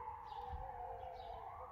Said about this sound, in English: The sirens are there. Or is it the fire? No, I think it's the fire department